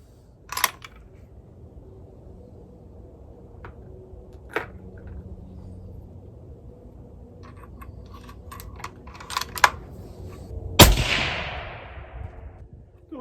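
A Tikka T3X Lite rifle in 22-250 fires one loud, sharp shot near the end, preceded by faint clicks and handling noises and followed by a brief decaying echo.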